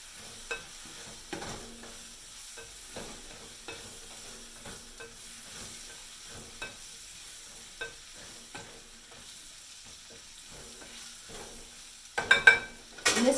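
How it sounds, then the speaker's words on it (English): Rice being stirred in oil in a pan for taco night, a soft continuous sizzle with scraping strokes of the spoon at a steady rhythm, close by, ending in a few louder clatters. "You want to stir it really well so everything is coated."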